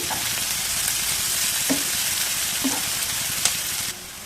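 Onions frying in oil for a broad bean curry give a steady, close sizzle with soft stirring scrapes, heard alone without talk.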